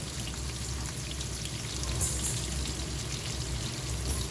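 Thin slices of pork belly fry in a pan over low heat, giving a steady, soft, close crackling hiss that fills the whole moment without voices.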